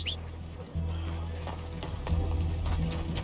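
Horse hooves gallop in Red Dead Redemption 2, a fast, close, rhythmic clip-clop over a low rumbling game soundtrack, growing louder partway through.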